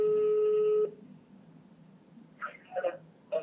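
A telephone call tone, a steady electronic beep lasting under a second before it cuts off, followed by a phone voice starting to speak.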